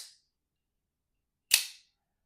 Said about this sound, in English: It's also have a very unique sound, especially on the retracting